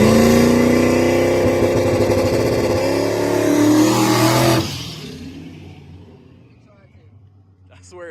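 Street drag car launches at 3,900 RPM on wastegate with ballast and 10 psi tire pressure on a no-prep surface: a loud, sustained engine roar for about four and a half seconds, then cut off and fading to quiet.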